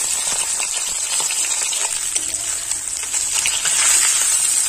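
Pieces of pomfret fry in hot oil in a Bengali village kitchen, giving a continuous close sizzle dense with tiny crackles and pops and no voices.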